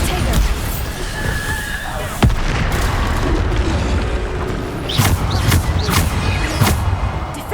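A Bombarda explosion spell in Hogwarts Legacy on PS5 booms loudly amid continuous combat noise, with several sharp blasts and impacts standing out over a dense, busy game soundscape.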